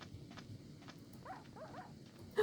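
Tamed dogs in Minecraft give a few short, faint whining yelps in quick succession, with soft footstep patter and a louder brief knock at the end.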